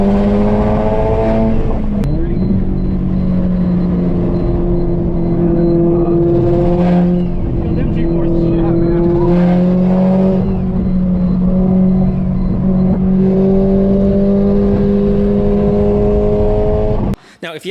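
A fully built Subaru STI running E85 fuel on track at Ridge Motorsports Park in Washington State revs loudly, its engine pitch climbing through repeated gear pulls with brief shift dips, close and continuous until cutting off abruptly.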